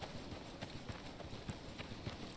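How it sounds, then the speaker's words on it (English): Goat hooves clopping close by in the survival game iCarus, a quick uneven series of light hollow steps over a dense ambient background, with no talk. "It was some type of goat."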